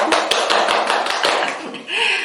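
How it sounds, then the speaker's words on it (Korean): A group of people claps together in a quick, even run of about ten sharp claps, then stops as a voice takes over. "박수 한번 쳐드리죠."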